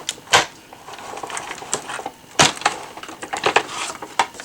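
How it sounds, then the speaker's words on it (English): Die cutting machine cutting out a card panel for a peacock greeting card kit, giving sharp crunchy clicks and rolling creaks, with two loud snaps standing out among quieter mechanical ticks. "I'll put this in my die cutting machine"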